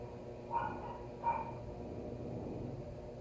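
A dog barks twice, somewhere in the background, two short, faint yips about a second apart, with a steady low hum and murmur of broadcast noise underneath.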